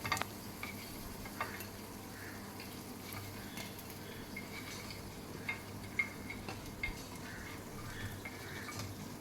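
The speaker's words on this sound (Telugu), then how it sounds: "ఇప్పుడు మూత పెట్టి ఒక మూడు నిమిషాలు బాగా వేయించుకోవాలి" Gunta ponganalu frying in a covered pan, a faint steady crackle with small scattered ticks and pops, no voices.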